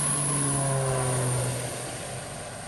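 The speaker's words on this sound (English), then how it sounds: "This is our airplane, the PAC 750 XL." PAC 750 XL skydiving airplane with its turboprop engine running, a steady droning hum with a high whine, close and loud, slowly fading toward the end, no voices.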